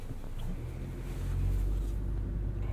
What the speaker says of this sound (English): we'll just drive forward